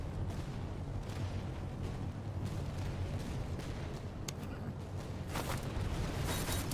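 Low rumbling booms of grenade explosions in a musket-era battle video game, distant and muffled under a constant roar of battlefield noise, with a few sharper cracks near the end.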